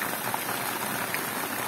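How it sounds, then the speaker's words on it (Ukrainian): Steady rain falls on a vegetable garden with zucchini plants in Kherson region, making a dense, continuous hiss and patter with no talking. "Просто вам показую, що є дощ."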